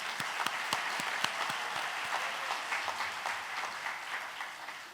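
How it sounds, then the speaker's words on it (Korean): Church congregation at a men's mission dedication service applauding to welcome visiting elders and pastors, a steady wash of many hands clapping with a few sharp nearby claps standing out, fairly distant and even throughout. "감사 박수로 환영하겠습니다."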